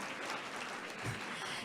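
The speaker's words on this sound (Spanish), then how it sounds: "el aplauso por favor para romper el hielo" Faint applause from an audience at a public forum on poverty reduction, a soft, steady patter of clapping heard from a distance.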